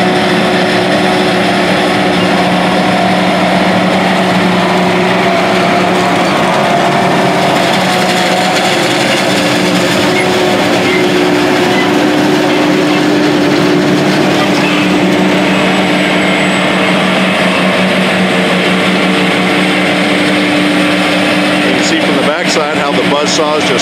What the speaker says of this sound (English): It's just like a big buzzsaw, slicing through the corn, bringing the stalk and ear inside to be processed